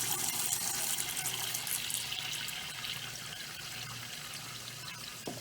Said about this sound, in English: You fill the pot with the eggs in it with cold water